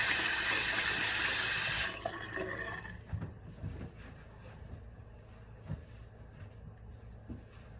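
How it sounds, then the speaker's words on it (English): Someone washes their hands at a sink: a strong rush of running tap water for two seconds, then the tap stops, leaving soft drips, splashes and small handling knocks nearby, with no talk. "I'm gonna wash my hands"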